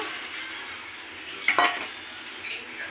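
Ingredients dry roast in a pan with a soft, steady rustle, broken halfway through by one brief clink of a utensil against the metal.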